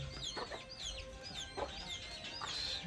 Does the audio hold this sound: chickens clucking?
yes